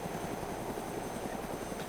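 A helicopter in the video game DayZ thrums faintly in the distance, a low, steady rotor chop with no talk over it.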